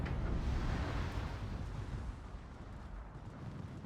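Heavy naval gunfire from a warship in World of Warships, aimed at a destroyer: a dense, rumbling boom of artillery that starts loud and rolls on at a steady level without letup, with no voices.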